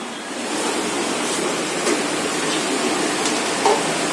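Sudden rain in a rural Bengali household setting: a steady, dense hiss of rainfall filling the whole stretch, loud and even, with a few faint knocks and clatters near the end.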